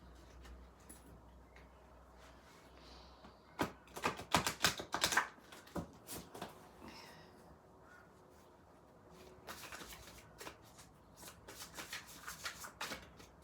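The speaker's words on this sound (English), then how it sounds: "feel like these cards need a good shuffle." Tarot cards shuffled in a quiet room, sounding as a burst of sharp, rapid riffling clicks, then a pause and a second softer run of card snaps.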